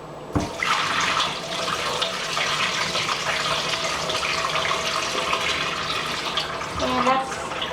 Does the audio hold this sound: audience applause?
no